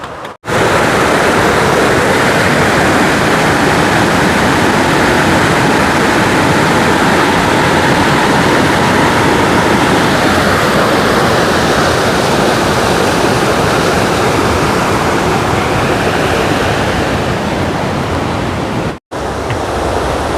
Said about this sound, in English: there's another look at this stream we're crossing here.